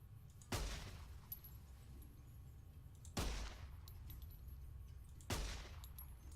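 Three widely spaced gunshots from Fallout New Vegas, a modded playthrough, each a sharp broadband crack with a short tail over a steady low background hum, no talking.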